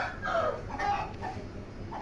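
A fighting rooster crows in a couple of harmonic bursts, moderately close and clear over a steady low background, with no talking.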